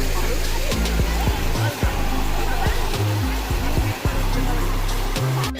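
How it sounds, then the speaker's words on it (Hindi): Water pours from a mountainside at Pahine waterfall near Nashik, a continuous loud rushing roar filling the scene, with people talking over it. "ऊपर देखिए पहाड़ से पानी गिर रहा है,"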